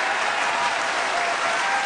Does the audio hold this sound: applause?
yes